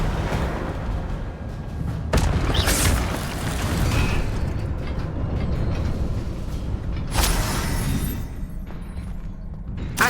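A fire spell cast in the video game Hogwarts Legacy erupts in a loud, dense burst of flame and booming impact, layered with game music and effects across the whole span, with a second sharp blast near the end.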